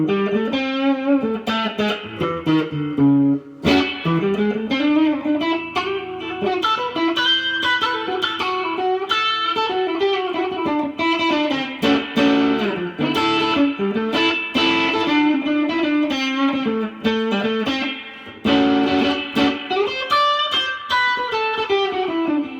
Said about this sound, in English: Throw that in, bury it in some beautiful shimmering reverb,